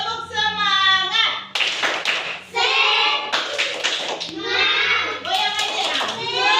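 Schoolchildren in an elementary classroom clap a rhythmic cheer chant together, the claps loud and close in bursts, mixed with children's voices and an adult voice speaking between them.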